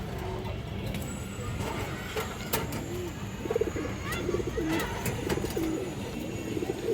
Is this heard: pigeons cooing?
yes